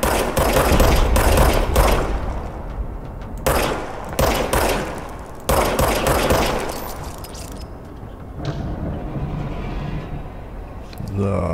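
Rapid bursts of automatic gunfire from a self-reloading weapon in the video game Control, loud clustered volleys separated by short pauses, with someone talking over parts of it.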